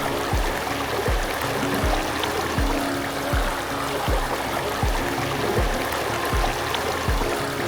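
Steady rush of a flowing river in an outdoor African setting, a continuous broadband wash of water with regular low thumping pulses about every second, no voices.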